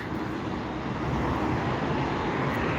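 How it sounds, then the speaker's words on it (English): A NetJets Embraer Phenom 300 private jet comes in to land from Las Vegas, giving a steady broadband engine roar that builds slightly, with no talk over it. "a NetJets Embraer Phenom 300 coming from Las Vegas"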